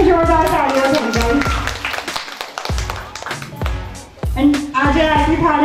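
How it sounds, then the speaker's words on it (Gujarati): An audience claps together for artists at an aarti thali decoration competition, a loud burst of dense applause with a brief dip before rising again, as a person speaks over it. "તેમને માટે પણ જોરદાર તાળીઓ થઈ જાય"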